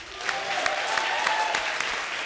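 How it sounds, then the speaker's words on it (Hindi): On a Hindi comedy show stage, a studio audience breaks into full, sustained applause, dense and even, with a few sharper claps standing out. "रज्जो के लिए जोरदार तालियां,"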